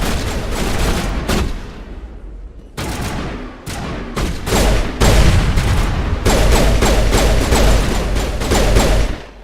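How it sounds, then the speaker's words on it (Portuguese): Rapid bursts of video game gunfire crackle loudly in clustered volleys with brief gaps, like a sustained firefight with automatic weapons and heavy booms. "já tem mais tiroteio"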